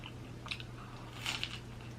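Crunchy bread of a Philly cheesesteak sandwich being bitten and chewed close up, two soft crunching bursts over a low steady hum, with no talking.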